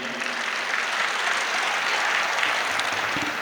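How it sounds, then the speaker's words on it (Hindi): Sustained audience applause at a mushaira, an Urdu poetry gathering at Anwarul Uloom College, steady dense clapping from a crowd lasting the whole stretch at moderate level with no voices over it. "तालियां बजा दीजिए"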